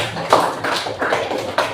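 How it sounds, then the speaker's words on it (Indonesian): A few scattered hand claps ring out in a classroom for a student group, each one a sharp burst standing apart rather than blending into full applause, over a steady room background. "boleh tepuk tangan pada kelompok 2"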